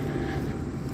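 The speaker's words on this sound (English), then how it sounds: "You may be able to hear the jet going off in the background." A jet airplane rumbles steadily in the distance near Cleveland's airport, beside an outdoor lagoon in Ohio. It sounds as a continuous low roar with no talk over it.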